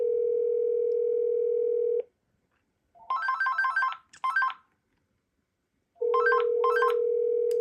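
Ring signal heard on a call placed to a Panasonic or VTech/AT&T landline phone with a call blocker: a steady tone, then two bursts of warbling electronic ringing, then the steady tone again, clear and close with no talk.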